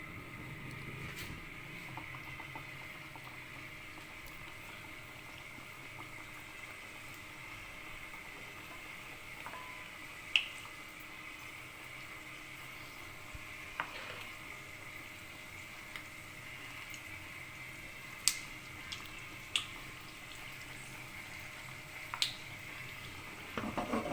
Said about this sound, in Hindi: इस तरह फ्राई करते जाएं, लाइट सी गोल्डन हो जाए